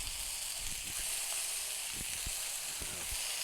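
Burger patty pressed flat with a small pot on a 28-inch Blackstone griddle, loud continuous close sizzling with several dull thumps and scrapes from the pressing.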